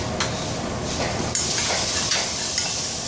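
Sugar being stirred into tomato cooking in a pan: a steady sizzle and hiss runs throughout, with scraping strokes of a spoon against the pan and a few small metallic clinks, close and alone.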